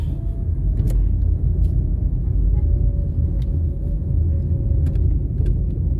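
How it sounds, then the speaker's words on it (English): Car interior on a coastal highway under improvement in St. Thomas, a continuous loud low rumble of engine and road noise, steady throughout with a few faint ticks and knocks. "So I'm just driving along the route"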